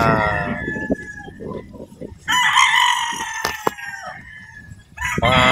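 Firebird gamefowl roosters on a farm crow loudly in overlapping bursts, with several close, drawn-out crows, scattered clucks and short calls between them, and no talk.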